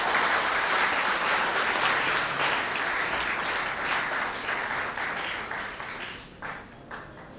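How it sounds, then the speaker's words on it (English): Large audience at a startup conference applauding a chief guest, a loud, dense roar of clapping that holds steady and then thins and fades toward the end. "Please give a very big round of applause."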